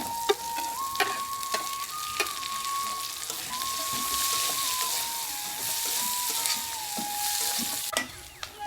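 Onion and green chili sizzling steadily in a hot pan, a continuous loud frying hiss broken by scattered sharp clicks of stirring, with a faint thin tone running underneath.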